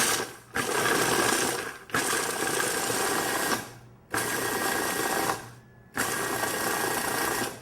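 A food processor pulsing nuts and oats into flour, four loud whirring bursts of about one to two seconds each, separated by short pauses, with no talking.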